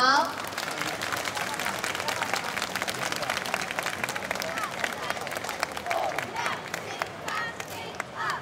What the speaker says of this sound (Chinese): 精彩的演出，热烈的掌声再来一遍好不好？